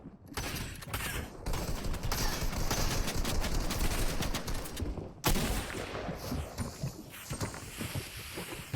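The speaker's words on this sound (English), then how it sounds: "There's nade spam coming in." Grenade spam and gunfire in a Fortnite grand finals match: a dense, continuous barrage of explosions and rapid shots with brief gaps, loud and chaotic throughout.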